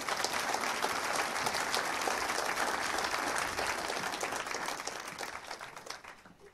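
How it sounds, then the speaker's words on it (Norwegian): Sustained audience applause at a Norwegian energy conference event, dense steady clapping filling the room and tapering off toward the end. "Vi gir deg nok en applaus."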